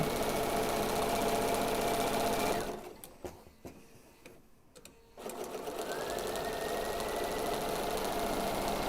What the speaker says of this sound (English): So we're just sewing the entire length of those 2 pieces